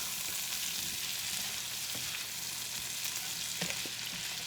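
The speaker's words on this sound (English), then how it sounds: "Now we're just going to let these potatoes crisp up a bit." Potatoes fry and crisp in a pan with a steady, close sizzle and a few small pops and stirring scrapes, with no voices.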